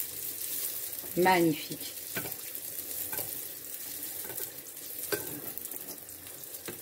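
Beignet dough frying in hot oil, a steady hiss and crackle of sizzling with a few soft stirring knocks, while a voice speaks briefly.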